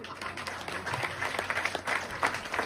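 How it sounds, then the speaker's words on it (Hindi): An audience at an RCM motivational talk claps briefly, a short burst of scattered hand claps at moderate distance, with faint voices mixed in. "ताली बजाओ भैया"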